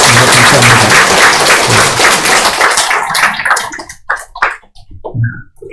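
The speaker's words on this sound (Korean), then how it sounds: "한번 그 자리에서 일어서 주시면 큰 박수로 환영하도록 하겠습니다." A church congregation gives a welcoming guest a big round of applause, dense and loud at first, then thinning into scattered claps before fading out beneath a few spoken words.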